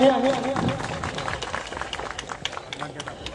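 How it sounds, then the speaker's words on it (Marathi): An audience applauds at a farmers' exhibition event during a portrait-honouring ceremony. A voice comes first, then a scattered ripple of clapping builds under the crowd noise. "सर्वांनी जोरदार टाळ्या वाजवायच्या आहेत।"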